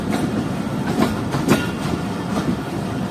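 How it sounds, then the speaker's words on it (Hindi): The Jaffer Express passes at the small Habibkot railway station in winter, with a steady, loud rolling rumble and recurring wheel clacks. "तो हबीबकोट रेलवे स्टेशन काफ़ी अच्छा और एक छोटा सा रेलवे स्टेशन है"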